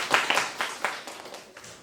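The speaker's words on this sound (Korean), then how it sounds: "박수 부탁드릴게요" An audience in a school lecture hall gives a short burst of applause, a dense patter of many hands clapping at moderate volume for about two seconds.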